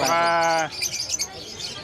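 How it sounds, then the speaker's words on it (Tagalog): Aqua Opaline pet bird calling in a pet market: a loud, tonal, harmonic-rich call lasting about half a second, then fading into busy, noisy background chatter. "Napakagandang ibon yung Aqua Opa pail."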